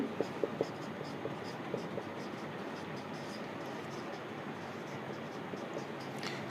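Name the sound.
teacher writing a question on the board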